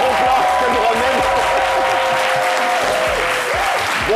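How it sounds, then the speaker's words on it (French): A studio audience on a midday talk show applauds a guest's arrival, steady clapping that runs throughout under a talking voice, with a tonal musical bed also present. "aujourd'hui on applaudit pour 2 bonnes raisons"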